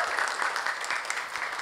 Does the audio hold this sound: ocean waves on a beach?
no